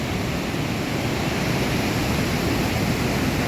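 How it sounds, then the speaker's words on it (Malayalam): Turbulent water rushes and churns steadily near a hanging bridge, a dense, continuous roar filling the whole stretch without pause or voices. "കലുഷിതമായിട്ട് വെള്ളം ചാടിക്കൊണ്ടിരിക്കണം"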